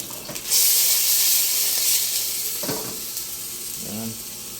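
Chopped onion and garlic hit hot oil in a pan for pork adobo, setting off a loud, steady sizzle that bursts in and then hisses on, with a couple of soft clinks of a utensil.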